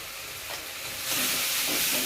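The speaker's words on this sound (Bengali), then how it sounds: "মশলাটা কষানো হয়ে গিয়েছে, মশলা কষানো হয়ে গেছে" Masala spice paste with turmeric, Kashmiri chili and meat masala fries in a pan, a steady close sizzling hiss that swells louder partway through and stays continuous.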